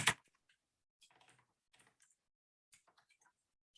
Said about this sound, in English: So I'm just typing up a bunch of things here